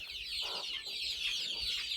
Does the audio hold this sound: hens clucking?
yes